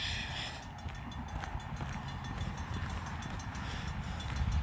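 Malfunctioning railroad crossing signals on the Iowa Interstate Railroad at E Resthaven Rd in Peoria ring continuously with no train passing. The steady, repetitive ringing carries over broad outdoor noise and grows slightly louder near the end.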